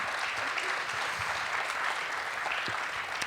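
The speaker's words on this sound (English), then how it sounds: "let's give our panel a round of applause" An audience claps for a lecture panel of local artists, a dense, sustained round of applause from a room full of people, steady and fairly close throughout.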